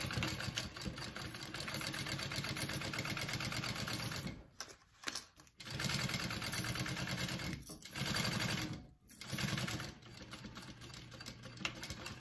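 A sewing machine runs stitching a quarter-inch seam on a Ruby handbag, a steady close mechanical whir that drops out briefly twice and then resumes.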